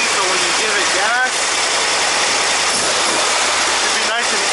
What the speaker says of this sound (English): So now that everything's idling correctly